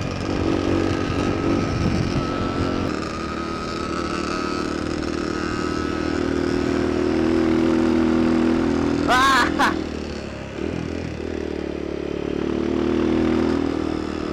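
Yamaha RXT135 pit bike engine running with a loud, rough, sustained drone and some revving, close up, with clattering mechanical noise and a brief high squeal partway through.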